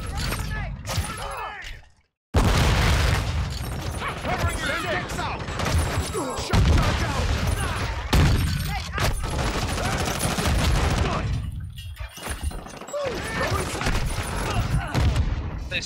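Call of Duty shotgun blasts ring out repeatedly amid dense gameplay gunfire, loud and close, with a brief silent gap early on and a voice talking over the action.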